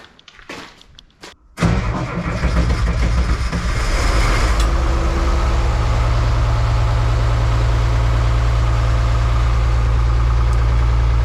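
An old Oliver tractor engine, unused since October, sputters and cranks, then catches and settles into a steady, loud, low idling rumble that continues to the end.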